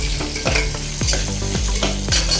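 Onions and green chillies sizzle in a pan, close and loud, with a spatula scraping through them in a steady rhythm of about four strokes over a continuous frying hiss.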